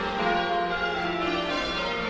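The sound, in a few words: church bells ringing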